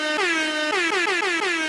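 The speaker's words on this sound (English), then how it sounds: "we're gonna give it the air horn" An air horn sound effect blares loud and close in several rapid repeated blasts with a slightly falling pitch, heard alone without talk.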